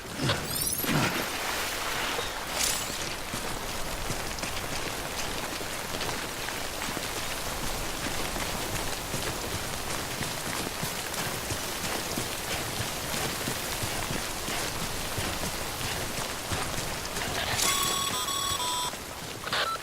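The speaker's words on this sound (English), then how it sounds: "Don't stay out in the rain any longer than you have to." Steady rainfall in the Death Stranding video game, a dense continuous hiss of drops on surfaces that holds even throughout, with a few faint electronic beeps near the end and no talking.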